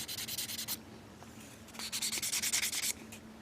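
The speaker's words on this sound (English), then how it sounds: "make sure that seam line is completely and utterly gone. I'm using 400 grit here." Fine 400-grit sandpaper scrubs a seam line on a plastic 1/144 Gundam model kit part in quick rhythmic strokes: one short burst, a pause, then a longer run of close, soft rasping.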